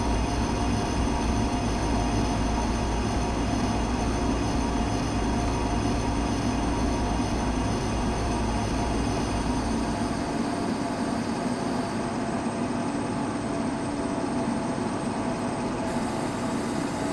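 A locomotive in the Train Simulator game, the 17230 Sabari Express, slows under gentle braking to a stop, with a steady dense rumble of rolling stock whose low end fades near the end, no talking.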